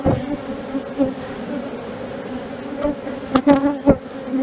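Honey bees buzz steadily around an open hive, a dense, wavering drone close by with a few louder passes of individual bees flying near.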